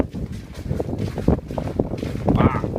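Strong gusting wind roars past during a snowstorm in Tokyo, buffeting the microphone in loud, uneven surges that swell toward the end.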